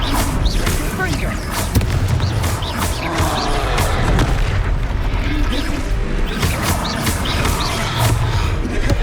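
Explosive booms from a Confringo blasting spell in the Hogwarts Legacy video game, several dull blasts set among battle noise and game voices in a fight against a troll.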